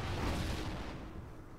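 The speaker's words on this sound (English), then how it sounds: "I'm gonna throw a grenade." A grenade explosion in the multiplayer shooter Call of Duty Ghosts: a deep, rumbling blast already underway that slowly decays over a second and a half, loud and broadband with no speech over it.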